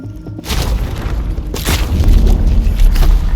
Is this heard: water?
no